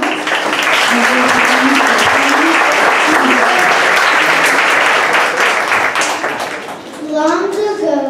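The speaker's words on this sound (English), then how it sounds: "can we please have a nice round of applause for the Octopus Gods" Sustained applause from an audience fills the room after a first grade performance, with children's voices rising over the clapping near the end as it fades.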